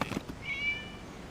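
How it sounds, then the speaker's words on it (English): A single cat meow from the Genshin Impact game world, a thin drawn-out high cry fading away after a few soft knocking sounds, heard alone. "It was just a cat."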